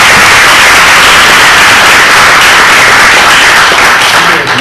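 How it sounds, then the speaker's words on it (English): Loud, sustained applause from a large crowd, dense and steady throughout. "give him a round of applause"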